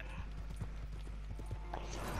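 Horse hooves clip-clop steadily in the Red Dead Online video game, a quick, even trotting rhythm of close, distinct beats over a low rumble, with a brief whinny-like note near the end.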